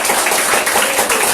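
Congregation clapping during a church service, a dense, steady wash of applause filling the short moment without voices.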